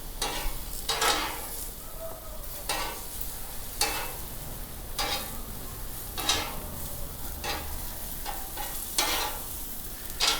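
Onions sauté in a pan, a steady close sizzle broken by regular scraping strokes of a spoon stirring them every second or so.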